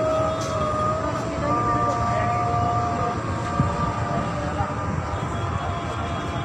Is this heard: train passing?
yes